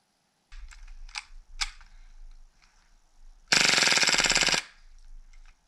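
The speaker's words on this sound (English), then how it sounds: "It's quite a fast gun. It is pretty loud too, especially without the power-up suppressor can that I have." A KWA KMP9R airsoft SMG, a B&T MP9 replica fired without a suppressor, lets off one loud, rapid buzzing burst of about a second, preceded by scattered handling clicks and rattles, close up and with no speech.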